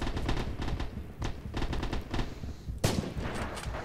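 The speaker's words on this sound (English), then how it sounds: "Fucking machine gunner right there." Machine gun fire in Red Orchestra 2, a World War II shooter set at Stalingrad, sounds as rapid bursts of loud automatic shots with short pauses between volleys and a sharper crack near the end.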